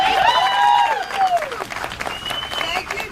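At a union workers' canvass launch event, a crowd breaks into loud, steady applause after a speech, with a rising whoop or cheer over the clapping at the start.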